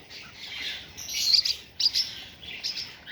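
Parrotlet chicks begging for food, a dense run of high, thin chirps and squeaks in repeated bursts, close and fairly loud with no talk.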